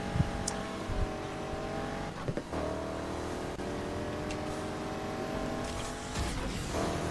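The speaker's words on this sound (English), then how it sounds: "spin out the Porsche" Porsche spinning out in Need for Speed Heat: engine roar with skidding tire noise and a few sharp knocks and impacts, continuous and fairly close, without talk.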